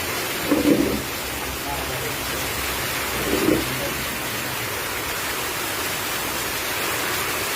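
A dense, steady roar of heavy monsoon rain in Palus, Maharashtra fills the scene, with a couple of brief muffled thumps rising out of the constant wash.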